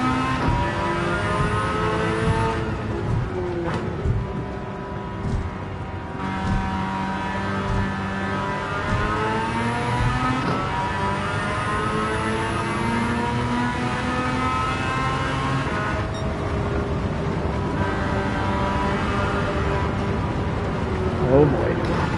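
A rotary 13B-engined car revs in Gran Turismo 7, its buzzy, harmonic-rich whine rising and falling as the throttle swells and drops through gears, steady and close throughout, with a voice talking over it at times.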